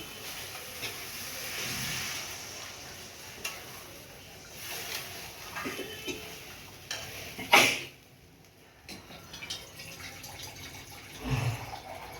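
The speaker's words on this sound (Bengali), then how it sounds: "এবার আমি জল দিয়ে দেবো।" Water pours into a pan of fried spiced potatoes with a soft hiss and rushing sound, followed by a louder sudden splash and sizzle burst partway through and another shorter one near the end.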